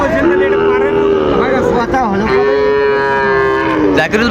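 A loud, nearby Sahiwal bull calf at a cattle market in Dinajpur gives two long, sustained moos in a row, with faint crowd murmur in the background.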